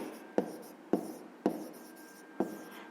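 A pen writes on paper during a fifth-grade maths exercise, making four short, distinct scratchy strokes spaced irregularly, close and quiet against a faint background hum.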